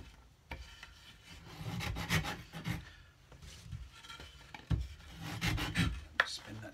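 A Shinto rasp scrapes along a wooden cigar box guitar neck in uneven bursts of rough rubbing strokes, close up and moderately loud, with brief pauses between passes.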